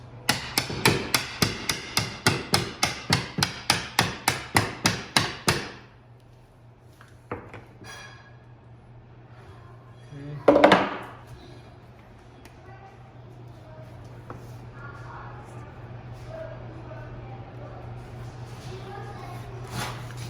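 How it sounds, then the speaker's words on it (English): Prying a bathroom mirror off the wall with shims gives a quick run of sharp, evenly spaced knocks. After a quieter stretch comes one loud crack, then faint scraping under a low steady hum. "We'll just keep prying it."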